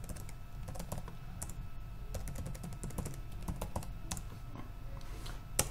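Rapid, continuous keystrokes clatter on a computer keyboard while a root password is set during a Slackware installation, close and steady with a few sharper taps.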